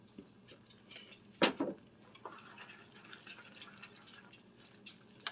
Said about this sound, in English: So then you add your noodles in there.